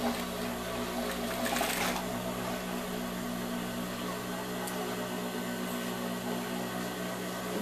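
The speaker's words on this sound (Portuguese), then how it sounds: "Aqui eu vou passar a costura tirando a quantidade que eu preciso." An electric sewing machine runs steadily, stitching through a leather jacket sleeve being shortened, with a continuous whirring hum and a brief brighter burst near the start, no voices.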